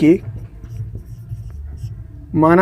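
Marker or chalk scratches lightly across a board during a maths lesson, soft and intermittent, framed by someone speaking at the start and end.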